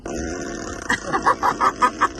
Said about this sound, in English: fart on demand